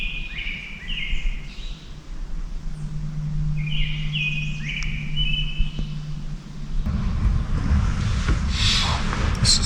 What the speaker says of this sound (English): Just hear the birds chirp.